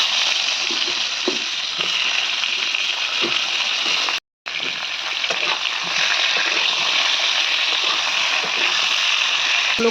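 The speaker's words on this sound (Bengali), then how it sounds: "তো এই যে এখানে পটলগুলো আছে, তেলের মধ্যে দিয়ে দেবে পটলগুলো।" Pointed gourd slices fry in hot oil seasoned with cumin and black pepper, producing a loud, dense hiss of sizzling that runs steadily apart from one brief silent gap.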